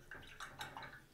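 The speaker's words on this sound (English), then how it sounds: "I'm gonna rinse this brush, just like that." A paintbrush swished and tapped in a water jar during an acrylic painting session, giving short, faint watery clinks and splashes in quick succession with no voices.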